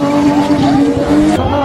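A drift car's engine revs hard and steadily with quick throttle blips, rising and falling close by, with a hint of tire squeal.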